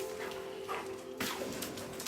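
Dogs heading to their kennels, with a few short whimpering yips and rustling movement over a steady tonal hum, fairly faint and intermittent.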